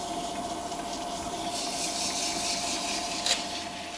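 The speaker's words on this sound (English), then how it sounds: "now I'm going to take at 320, and I'm going to start sanding this." A dyed wooden vase is sanded by hand with 320 grit sandpaper, giving a steady, soft rubbing rasp up close with a short sharper scrape near the end.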